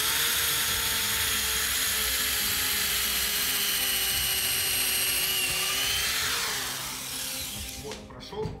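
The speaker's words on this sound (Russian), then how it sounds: "Берем сверлышко и сверлим люк." A drill bores through a hidden floor hatch under laminate, a high continuous whine at steady loudness for about six seconds, then slowing and dropping in pitch as the bit breaks through before stopping.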